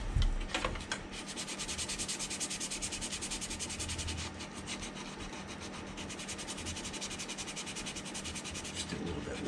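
Continuous rough sanding of putty on a plastic model kit, a dense scratchy rasp of abrasive rubbing back and forth close up, running steadily throughout.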